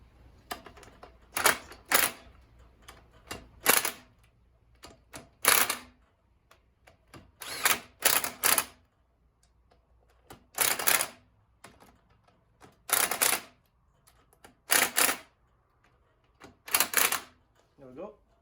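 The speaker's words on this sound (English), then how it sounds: "I'll do what I normally do, which is this little gun again. This way I just know that they're tight." A small air gun tightens bolts on the clutch of a 1959 Reliant Regal MkV being restored, firing in about a dozen short sharp rattling bursts separated by quiet pauses, close to the microphone.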